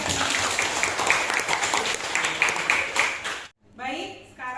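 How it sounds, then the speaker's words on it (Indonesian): A classroom claps for a student at an open lesson on renewable energy and briquettes, with brisk, close clapping for several seconds that stops abruptly before a voice starts talking. "Kita beri tepuk tangan."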